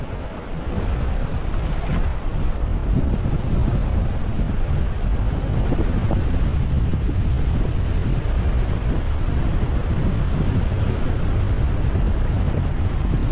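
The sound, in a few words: wind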